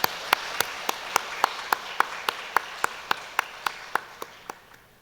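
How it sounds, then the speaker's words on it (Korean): During a Sunday church service, the congregation claps to welcome new members in a steady, evenly spaced beat of about eighteen claps that gradually softens and fades out. "모두 박수로 환영하며 축복하겠습니다."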